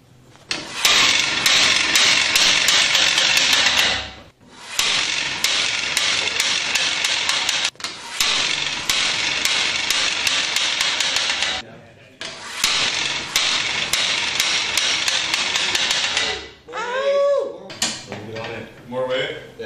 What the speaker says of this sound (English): we're going to take his frame and we're going to smash it and see what happens